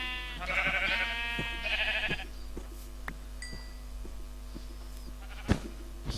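Two loud, nasal bleats from sheep in the Minecraft video game, close together near the start, followed by quieter game sounds and a sharp click.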